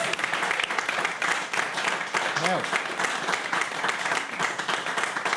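A singing session audience gives a big round of applause for a singer, thick continuous clapping with a voice briefly rising over it midway and a word spoken near the start.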